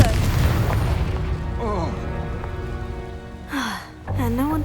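A Confringo spell blast from Hogwarts Legacy, a short whooshing boom over music and game effects, with a spoken voice and another burst near the end.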